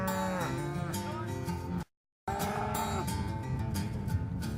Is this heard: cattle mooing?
yes